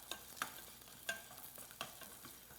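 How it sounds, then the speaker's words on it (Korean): Soft scraping and light clatter of stirring burdock root in a pot, with faint sizzling of it frying in cooking oil; a few sharper taps punctuate the quiet background. "냄비에다가 식용유를 두르고 볶다가"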